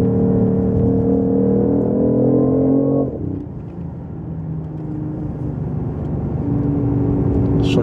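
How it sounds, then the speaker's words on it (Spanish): BMW i8 three-cylinder 1500 cc engine, slightly amplified, revving loudly with a rising whirring tone that drops off abruptly partway through and settles into a lower steady hum. "es el propio sonido del motor"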